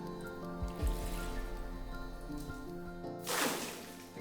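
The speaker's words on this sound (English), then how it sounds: "I want you to dip a cup of this water and pour it down the well." Cup of water poured down a well over 100 feet deep: a quiet, echoing stretch with faint drips, then a sudden loud splash arriving from far below near the end.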